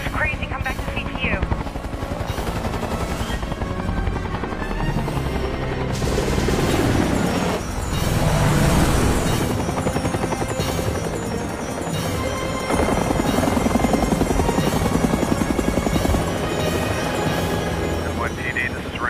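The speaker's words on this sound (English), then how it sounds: "Air Force choppers are in pursuit." Helicopter rotors thrum loudly and steadily throughout as Air Force choppers pursue over New York City, with dense mechanical roar, occasional crashes and booms, and voices under the din.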